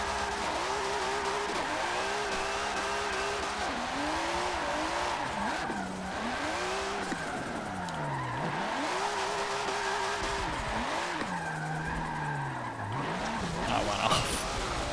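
James Dean's car drifting at Suzuka in the video game Forza Motorsport 7, the engine rising and falling through long sweeping revs as the tires squeal through corners, with someone talking over it.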